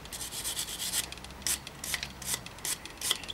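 A rag wipes grease off the bottom bracket flats of an old English three-speed bicycle, making soft, repeated rubbing strokes at close range with nothing else heard.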